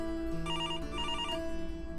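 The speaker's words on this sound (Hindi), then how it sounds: "आप फोन अटेंड कर लीजिए।" A telephone rings in a home during a drama scene, two bursts of bright electronic trilling in close succession over a low musical background, with no talking.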